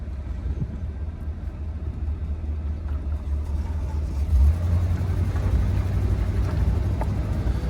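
A 1967 Cadillac Deville's engine pulling while driving, a low steady rumble heard from the cabin that swells slightly partway through as the car gains speed, with no talking.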